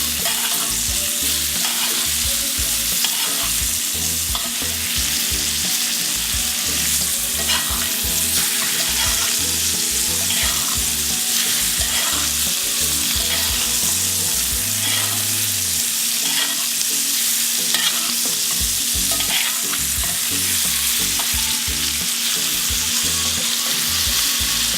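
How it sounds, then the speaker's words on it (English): A prime NY steak sears in a hot skillet with rosemary sprigs while being basted, a loud, constant close-up sizzle with rhythmic spoon scrapes and splashes of fat throughout. "I'm just going to continue to baste my steak."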